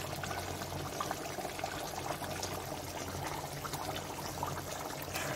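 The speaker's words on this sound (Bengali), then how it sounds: "আমি এবারে পোস্তটা দিচ্ছি।" Poppy seed paste being poured into a pan of coconut chicken, a soft continuous wet trickle and sizzle at low level, steady throughout with no voices.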